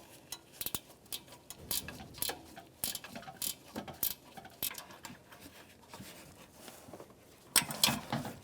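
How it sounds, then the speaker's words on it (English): A ratchet wrench snugs up bolts on the cooling fan of a 1992-1996 Ford F-150, giving quiet, irregular bursts of rapid clicking with short pauses, close and faint, with no talking. "I'm going to snug them up with the ratchet wrench."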